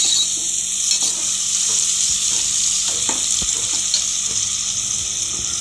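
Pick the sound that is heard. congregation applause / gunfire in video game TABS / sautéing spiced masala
sautéing spiced masala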